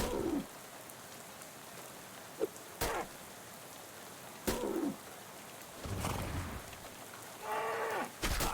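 A cow in the Shadows Over Loathing video game gives several short lowing calls spread across the clip, against a steady rain-like hiss and a few sharp clicks.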